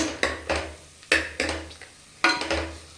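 Coconut and masala dry-roasted together in a pan for brown chana kurma: a spatula repeatedly scrapes and knocks against the metal, with loud clattering strokes in an irregular rhythm over a low background.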